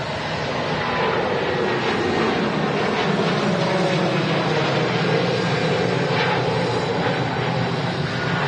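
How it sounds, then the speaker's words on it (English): An Airbus A380 airliner at Manchester Airport gives off a loud, steady jet engine roar that holds an even, broad rumble throughout without fading. "Let's fill the chat with those wave emotes for the A380."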